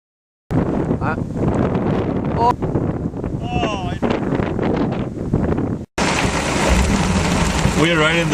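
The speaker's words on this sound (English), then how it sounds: "We're right in the core of the storm." Heavy rain and gusting wind batter a vehicle parked in the core of a thunderstorm, with loud, steady roaring noise broken by a short dropout and no clear speech.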